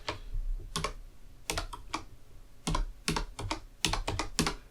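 Bursts of keys clattering on a computer keyboard, typed in short irregular clusters at close range with brief pauses between, no talking.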